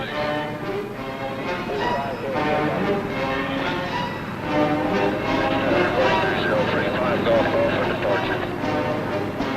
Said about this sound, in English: From the main heliport at Walters, the copters take off to fan out toward the various training fields or stage fields